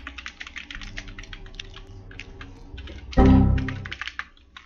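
Rapid, irregular clatter of keys on a computer keyboard runs throughout, with a louder low thump partway through, heard amid a Roblox game session.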